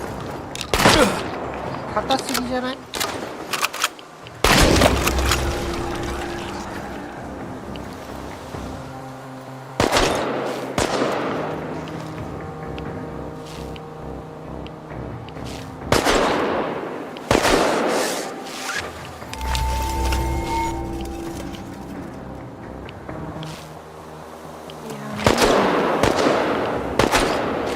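Gunfire in the survival horror shooter Chernobylite comes as repeated loud bursts of automatic fire separated by quieter gaps, with a voice speaking briefly between volleys.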